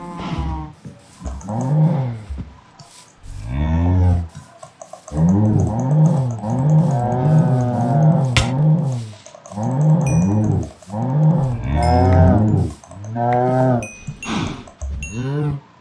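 Cows in the Blightfall Minecraft modpack moo over and over, loud, low, drawn-out synthetic lowing calls repeating in quick succession with brief gaps and a few clicks from being punched.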